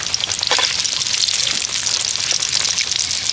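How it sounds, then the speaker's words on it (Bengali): Banana flower chops fry in hot oil while being turned, giving a steady, dense sizzle and crackle that stays loud and continuous throughout, with no talking. "এইভাবে উল্টে পাল্টে সুন্দর করে লালচে রং করে ভেজে নেব।"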